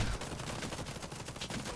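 Rapid automatic-rifle fire from the online shooter Warface rattles in a dense, fast stream of loud shots for nearly two seconds, with one burst closely following another.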